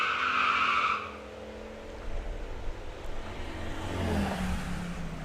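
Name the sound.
drag racing Jeep and Supra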